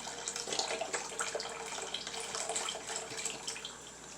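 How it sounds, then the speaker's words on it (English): Chicken stock from a 32-ounce container poured into a paella pan, a soft steady splashing pour lasting a few seconds at close range with no talking. "I'm going to go on ahead and pour in the chicken stock."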